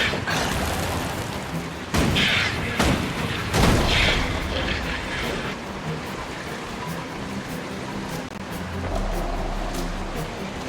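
Explosive blasts from a bloodstone blowing up in the video game Guild Wars 2, with several loud booming bursts in the first few seconds, followed by a rumbling roar that carries on to the end.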